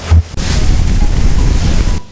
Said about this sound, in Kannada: ಬಟ್ ಗಾಳಿ ಅಂತೂ ಭಾಳ ಕೆಟ್ಟ ಬೇಸಾತೈತೆ